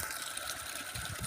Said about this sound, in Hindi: ये पानी निकल रहा है।